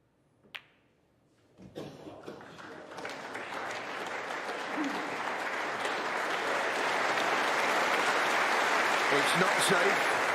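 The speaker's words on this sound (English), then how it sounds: "Applause." Snooker crowd at the Masters quarter-final between Judd Trump and Ali Carter: a quiet hall with a sharp click, then applause builds and swells steadily into loud, sustained clapping.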